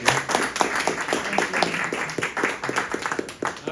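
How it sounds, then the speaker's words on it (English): Scattered audience clapping for Dr. Percy Griffin after an Alzheimer's Association talk, a modest room of hands giving uneven, distinct claps at moderate level with no talking. "let's give a round of applause for Dr."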